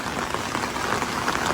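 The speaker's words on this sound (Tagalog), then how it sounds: "Walang tigil pa yung ulan dito mga kalingap." Heavy rain pours down in a dense, steady hiss of drops drumming on surfaces, loud and unbroken throughout, with no one speaking.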